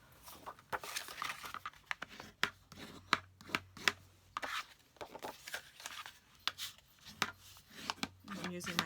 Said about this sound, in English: I'm just going to go ahead and score it first at 4 1/4, and then I'm going to cut it at 5 1/2 on the other edge